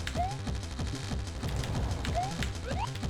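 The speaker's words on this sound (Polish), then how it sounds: "tak, strzela skorupami" Boss in the Mario Forever game firing shells, heard as rapid repeated mechanical popping bursts and short rising chirps over a looping game track, moderately quiet.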